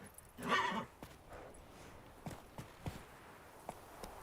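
Roach, the horse in the video game The Witcher 3, lets out one loud whinny, followed by a scattering of hoof clops and footsteps.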